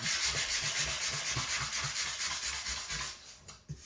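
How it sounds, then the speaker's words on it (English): Rhythmic back-and-forth strokes of sandpaper rubbing over dried nail filler on finish trim, close and steady, slowing and trailing off at the end. "take your pieces of sandpaper that you used as a spacer and sand it off"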